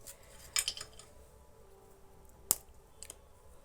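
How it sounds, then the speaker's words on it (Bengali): Crisp fried pitha made without potato breaks apart at close range in a quiet kitchen, giving a few sharp, brittle cracking snaps, with one especially loud snap near the end. "আমার আলু ভাজাটা কত সুন্দর মুচমুচে হয়েছে আমি তোমাদেরকে ভেঙে দেখিয়ে দিচ্ছি"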